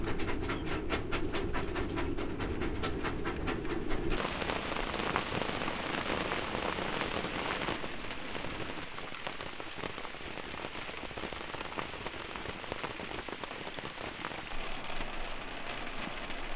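Rain patters steadily on a boat on the Baltic Sea, a dense, continuous hiss of drops that stays even and fairly loud throughout.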